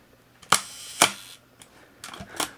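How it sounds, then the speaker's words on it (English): A Nikon F camera fires its shutter with the back removed, giving four sharp, close mechanical clicks spaced about half a second apart, then a paired click near the end, with quiet between them. "watch the shutters operate"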